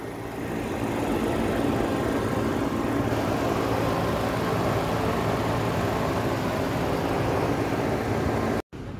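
A Mahindra XUV700 engine runs with a steady, loud broadband drone that holds constant for about nine seconds, cutting out briefly near the end, with no talking.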